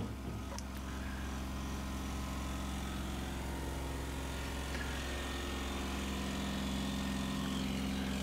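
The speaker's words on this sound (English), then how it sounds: "This diesel tractor is already running" A small diesel tractor engine runs steadily at idle on a farm field in Nagasaki, Japan, its low, even chugging drone continuous and fairly close throughout.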